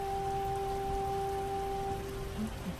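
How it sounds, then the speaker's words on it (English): Steady rain pours outside in an animated series scene, a dense constant hiss with two steady tonal hums running beneath it and no voices. "Thunder outside. Pretty rainy"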